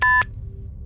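Two short, loud telephone dialing tones in quick succession as an emergency caller's line is dialed back, followed by a low steady hum of line noise.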